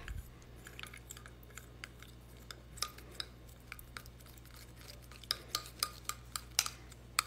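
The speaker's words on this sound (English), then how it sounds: "And then we're going to give it a good mix." CND spa manicure product being stirred in a bowl, with soft scraping underneath and a run of small clicking taps that grow sharper and more regular toward the end, close and quiet.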